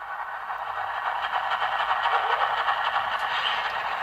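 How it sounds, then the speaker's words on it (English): An ESU DCC sound decoder in an HO scale Walthers ES44AC model locomotive runs its manual air compressor, a steady, moderately loud rhythmic chugging hiss that continues without pause. "F7 is manual compressor"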